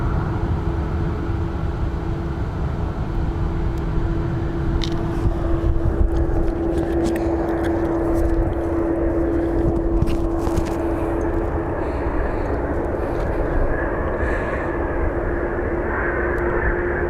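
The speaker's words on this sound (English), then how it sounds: "So we have a Prime Air 767." Loud jet roar from a Prime Air Boeing 767 at Phoenix Sky Harbor airport, with a sustained engine tone running underneath; the rushing noise swells and shifts midway as the aircraft moves past, and no voices are heard.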